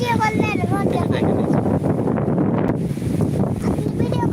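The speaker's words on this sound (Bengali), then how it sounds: "অনেক অনেক বাতাস হচ্ছে" Strong wind tossing mango trees buffets the microphone in a steady, heavy roar as a person talks over it.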